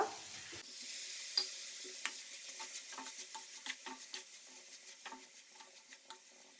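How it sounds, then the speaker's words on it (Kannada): Chopped vegetables and tomato frying in hot oil in a pan for masala vegetable rice, a steady close sizzle broken by repeated scraping stirs of a spoon against the pan, with no talking. "ಒಂದು 3 ನಿಮಿಷ ಹೀಗೆ ಫ್ರೈ ಮಾಡಿದರೆ ಆಯಿತು ಫ್ರೆಂಡ್ಸ್, ಆಯಿಲಲ್ಲಿ ನಾವು ಹಾಕಿದಂಥ ತರಕಾರಿಯನ್ನು."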